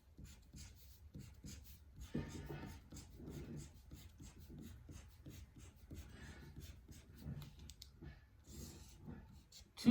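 A marker or pencil scratches rows onto a diagram, a faint series of short rubbing and scraping strokes in an uneven rhythm at close range.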